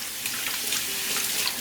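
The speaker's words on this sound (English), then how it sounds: "Our rice is washed with cold water" Rice being washed under cold running tap water, a steady close hiss and splash of a faucet stream without a break.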